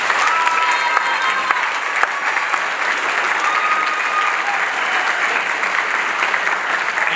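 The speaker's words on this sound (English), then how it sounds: "let's have one more round of applause for all of our award winners tonight." A high school spring concert audience claps in a sustained, even burst of applause that stays loud and steady throughout with no talking over it.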